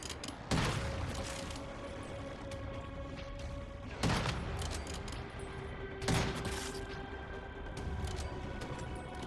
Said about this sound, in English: And you can just keep firing.